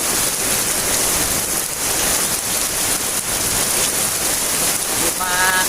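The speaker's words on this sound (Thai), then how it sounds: "ฝนตกเข้ามาเนาะ" Continuous heavy rain pours down with a dense, hissing wash, loud and steady throughout, with a faint voice buried underneath.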